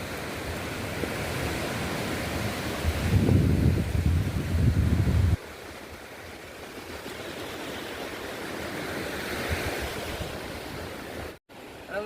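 Sea waves roll onto the shore with steady wind, a broad continuous rush that swells louder for a few seconds before settling into a softer, even surf wash, with no voices.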